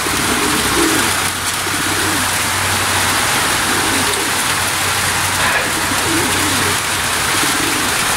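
Racing pigeons coo steadily in a loft after returning from a training flight from Gapan, Nueva Ecija, their soft repeated calls close and continuous over a constant hiss of rain.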